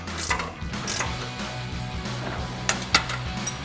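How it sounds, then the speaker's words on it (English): A ratcheting wrench clicks rapidly while tightening an 18mm bolt on a steel front bumper being fitted to a 2019-2024 RAM 1500 pickup, close up and loud, in short bursts with a few sharper metallic knocks. "get an 18mm wrench and ratcheting wrench"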